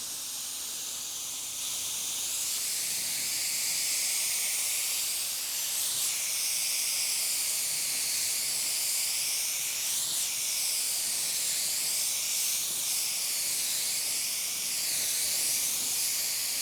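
A spray gun lays Sikkens UV primer onto a black Chevy car hood, a steady close hiss running unbroken with slight surges as the gun sweeps across the panel.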